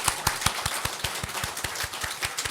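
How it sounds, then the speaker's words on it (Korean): Brisk, evenly paced clapping at a church meeting as a guest is welcomed, with sharp claps falling in a steady rhythmic beat, close and moderately loud throughout. "큰 박수로 환영합니다."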